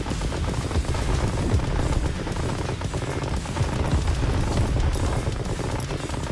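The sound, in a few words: gunfire shooting bunkers in Tempest Rising video game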